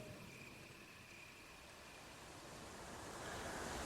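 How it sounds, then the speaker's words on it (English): Fountain water draining in Resident Evil HD Remaster, a steady broad rushing wash that swells slightly louder toward the end, with no voices. "Pixelated hell once again as the water drains"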